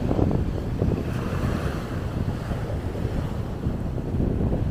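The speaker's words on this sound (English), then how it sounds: "Oh, it's so windy." Strong wind gusts roar across the microphone at the Felixstowe docks, a constant loud buffeting rumble with a wash like surf beneath it, no voices.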